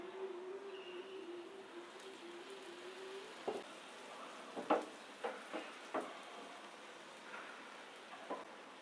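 Oil drizzled around the edges of a ragi (nachni) dosa sizzles faintly in the pan, a soft continuous hiss with a few small pops and crackles, quiet and alone.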